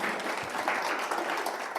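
A seminar audience applauds a speaker after a talk on AI transformation strategy, brisk continuous clapping heard close and even throughout.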